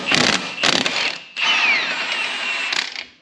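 A ratchet wrench spins on 21 mm brake caliper bolts of a Chevy/GMC truck, loud and close, with rapid clicking bursts broken by short pauses and then a longer continuous ratcheting run.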